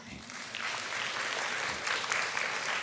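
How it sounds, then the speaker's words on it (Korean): A church congregation applauds during a certificate ceremony at a young adults' Sunday worship service, a steady, dense clapping that swells slightly and continues throughout without a pause. "크게 한번 박수 부탁드립니다"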